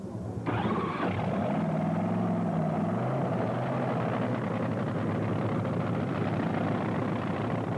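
A top fuel dragster at the 1980 NHRA Cajun Nationals fires up abruptly, and a quick rising whine settles into a loud, steady, rough roar that carries on to the end, close by.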